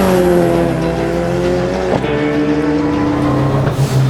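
A Ford Escort MK1 race car with a 540-horsepower engine drives on a wet track in the rain, its loud engine holding steady revs close by, with a brief sharp change in pitch near the middle.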